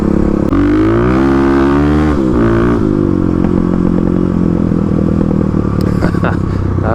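A Kawasaki KLX351 dual-sport motorcycle engine revs up and down with rising and falling pitch, then settles into a rough, loud idle close by.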